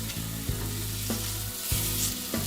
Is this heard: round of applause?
no